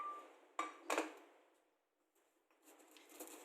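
Dry roasted spices for green curry paste clatter into a stone pestle and mortar. Two or three quick, crisp rattling drops come close and fairly quiet, followed by faint scraping and shuffling, with no speech.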